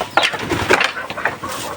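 A hen clucks in short, close bursts, a few soft throaty calls spaced over a couple of seconds, while being moved to a new spot to brood.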